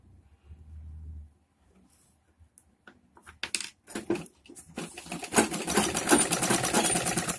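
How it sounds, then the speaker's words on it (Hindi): A sewing machine stitches a straight seam along a salwar belt, starting after a brief low hum and a few clicks, then running steadily and loudly to the end. "यहां तक हम बिल्कुल सीधा सिलेंगे जो हमने निशान दिया हुआ बेल्ट को।"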